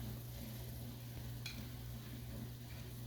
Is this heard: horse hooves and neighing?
no